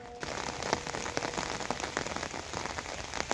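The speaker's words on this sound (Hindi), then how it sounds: "फिर बारिश भी उन पे लग रही है।" Light rain patters steadily on papaya leaves close by in an orchard, a dense, even spatter of drops with no voices.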